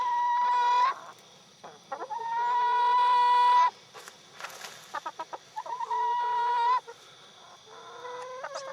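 Backyard chickens in a movable chicken tractor cluck and cackle close by, with long drawn-out calls broken up by quick choppy clucks, against an otherwise quiet background.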